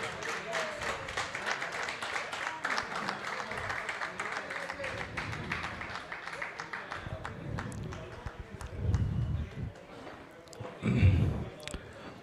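Golf league players in Bangalore cheer and clap for a woman player arriving at the deck area, a steady patter of applause running under the general noise, with a couple of heavier low thumps near the end.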